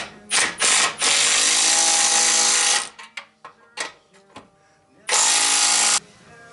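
A tool buzzes hard in close, loud bursts while an exhaust clamp is tightened on a rusty Jeep Renegade during an exhaust system replacement, with clanks and a voice between bursts.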